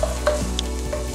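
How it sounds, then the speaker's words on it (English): Garlic sautéing in oil in a pan for a vegan quiche, a steady close sizzle with a light stir partway through. "you saute your garlic first to flavor the oil"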